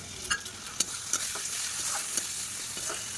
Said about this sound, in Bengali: অ্যাড করেছি কাশ্মীরি লঙ্কার গুঁড়ো দিয়ে ভালো করে নেড়ে চেড়ে নিতে হবে